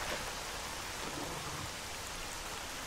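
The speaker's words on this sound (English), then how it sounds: "And this rain is quite loud." Loud rain in the Stalker Call of Pripyat Misery Mod video game, a dense, unbroken hiss of downpour with a faint low rumble, steady throughout and not interrupted by speech.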